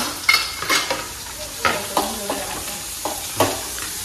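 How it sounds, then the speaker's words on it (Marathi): Onion pieces frying in hot oil with whole spices for a chicken curry, a steady sizzle broken by a string of sharp scraping stirs from a spoon against the pan, close and fairly loud. "आता कांदा थोडासा लालसर होईपर्यंत फ्राय करून घ्यायचा आहे"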